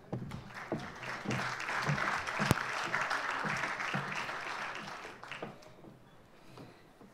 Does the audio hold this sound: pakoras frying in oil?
no